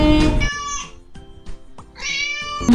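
In a children's finger-puppet show, a cat meows two long, loud times with clicks and soft tapping in between, heard alone without talk.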